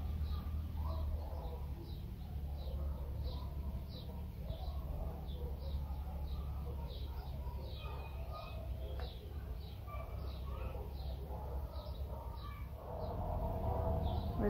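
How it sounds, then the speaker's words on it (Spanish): Birds call repeatedly outdoors in a steady background of low wind rumble, with faint chirps scattered across the whole stretch and no one speaking. "se va a escuchar mucho ruido del aire, de los pájaros y todo"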